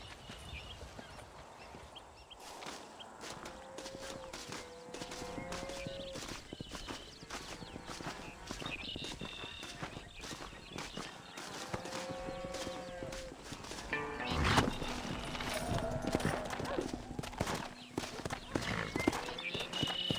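Horse hooves clip-clop in steady, rhythmic beats in the Red Dead Redemption video game, mixed with game sounds, music and brief voices.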